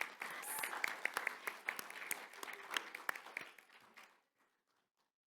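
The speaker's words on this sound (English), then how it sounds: "give yourselves a round of applause" Audience applause closing the first day of a leadership conference, a dense wash of many clapping hands for about four seconds before it fades out into silence.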